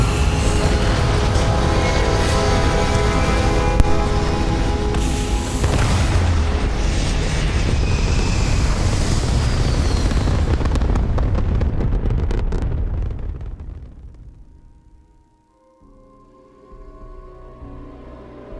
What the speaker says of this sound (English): Thrust is firing.